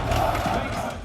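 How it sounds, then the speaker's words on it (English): A large crowd roars and cheers continuously at an esports semi-final between Spirit and Furia. The dense, loud wall of voices holds steady throughout. "And the crowd was going crazy."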